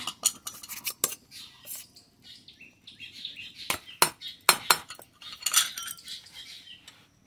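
Metal utensils clink against dishes and pots as hot rice and side dishes are served at lunchtime, in irregular sharp knocks and scrapes close by, with faint bird chirps in the background.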